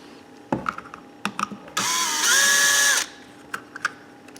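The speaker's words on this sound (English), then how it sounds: "I am using a power drill here" A power drill whirs in one loud, steady burst of about a second, removing a plastic gearbox cover on a Traxxas Rustler RC car, with scattered clicks and small plastic knocks before and after.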